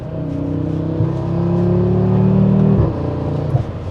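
An Audi RS3 with an aftermarket valved exhaust revs loudly up and holds a deep, steady drone before dropping off sharply, close by and with no voices.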